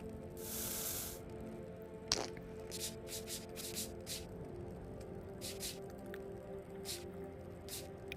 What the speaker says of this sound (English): Sometimes you got to turn it around and spray it again on the other side.